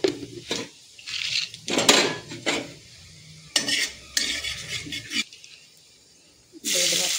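Whole spices, cinnamon and cumin, crackle and hiss as they hit hot oil in a pan for a chickpea dal and potato curry, with bursts of stirring and scraping broken by quiet pauses.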